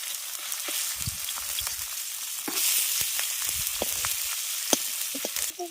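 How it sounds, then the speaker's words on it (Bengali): Gourd pieces deep-frying in hot oil until reddish, a steady close crackling sizzle with scattered pops and bubbling spurts throughout. "লাল লাল করে ভেজে নিয়েছি এবার এগুলো তুলে নিচ্ছি"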